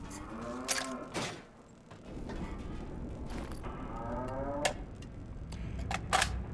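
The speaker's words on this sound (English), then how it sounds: "Does anyone else hear that cow?" A cow moos in long, low calls over steady background noise, heard inside a ship during a visit, with clicking sounds scattered through.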